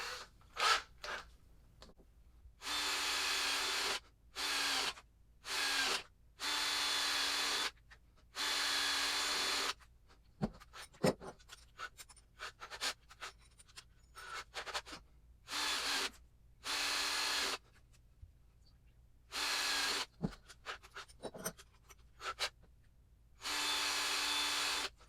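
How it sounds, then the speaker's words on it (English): A power drill with paddle bits bores holes into a pillar candle, whirring in a series of short bursts of a second or two each, separated by quiet pauses and small handling clicks. "So we're going to use each of those sizes just to make different size holes in the candle."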